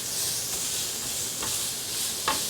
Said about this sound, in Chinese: 现在放入红萝卜，把红萝卜炒到油都充分沾布到表面